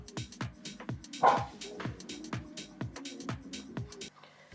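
A dog gives a string of short, rhythmic barks and yips mixed with whimpering, moderately loud and close, with faint background sounds around them.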